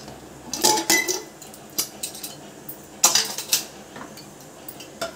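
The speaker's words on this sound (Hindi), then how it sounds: "आइए हम अपना प्रेशर कुकर खोल कर देखते हैं।" Metallic clanks and clinks of a pressure cooker lid being opened after cooking dal, a few sharp bangs at intervals with quiet gaps between.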